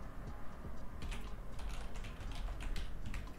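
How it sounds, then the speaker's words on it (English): Keys tapped on a computer keyboard while a brand name is entered into a website domain search, a steady run of quick, close clicks over a low background hum. "I'm gonna type in"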